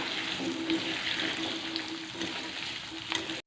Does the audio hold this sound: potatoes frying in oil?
yes